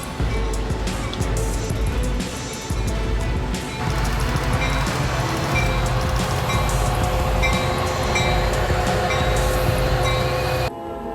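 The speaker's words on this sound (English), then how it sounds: "A Union Pacific train derailed after hitting a truck stuck on the tracks in Louisiana." A Union Pacific train derails after hitting a truck stuck on the tracks, roaring past at close range, heavy rumbling mixed with grinding, screeching metal, loud and unbroken until it cuts off abruptly.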